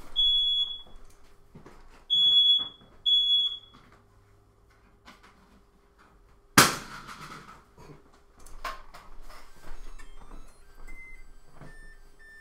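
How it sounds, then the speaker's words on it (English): A home smoke detector, set off while an oven cooks pizza, sounds a piercing electronic beep in three short bursts, followed by a sharp clatter and scattered household noises. "Smoke detector is going off."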